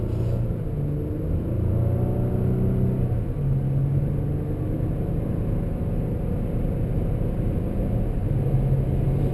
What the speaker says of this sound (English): You have shift points when you're in the sport mode.